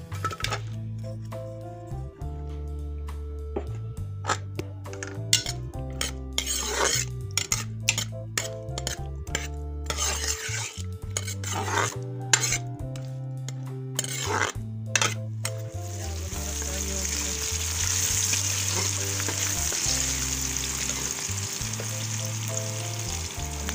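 Steady sizzling of onions frying in hot oil, with occasional stirring clinks, over continuous background music; no talking.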